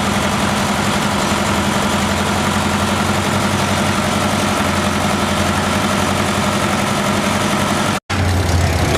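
A tractor engine runs loud and steady at a tractor pull, a continuous heavy rumble with a low, throbbing drone. It cuts out for an instant near the end before resuming.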